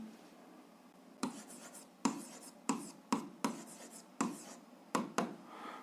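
A pen writes a linear equation by hand on paper, giving a quiet, close series of about eight short scratchy strokes in an uneven rhythm, each stroke separated by brief pauses, with no talking.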